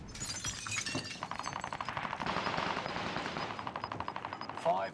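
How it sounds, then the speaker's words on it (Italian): Rapid machine-gun fire rattles against metal shipping containers in a battle royale shooter, bursts running through most of the stretch with a sharp crack near the end, while a voice talks faintly underneath. "Si stanno sparando ai container."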